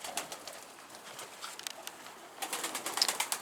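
Pigeons coo softly at a rooftop loft while birds flap and land, faint wingbeats and cooing scattered through the stretch and growing busier toward the end.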